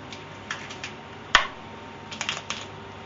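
A vacuum-sealed plastic pouch of frozen spiced foie gras escalopes is cut open with a knife tip or scissors: one sharp, loud crack of plastic, then scattered light clicks and crinkles close by.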